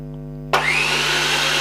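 A Butterfly speedy mixer grinder switches on abruptly and runs with a loud, steady high-pitched motor whine, close up and alone after a low hum.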